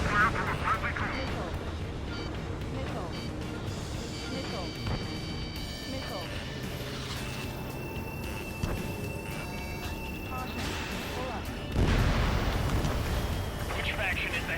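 Distant booming artillery and bursts of gunfire rumble through a combat scene in Ace Combat 7, with aircraft engine drone and a heavy blast near the end, under steady radio chatter.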